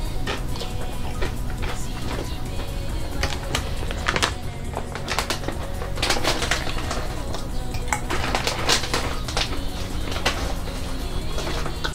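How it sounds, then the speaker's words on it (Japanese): Koikeya tortilla chips being bitten and chewed up close, giving a run of sharp, dry crunches and crackles that repeat steadily throughout, with no talking. "確かにポテトチップスとはまた違ったパリパリ感がありますね。 この音心地よくて本当に好き。"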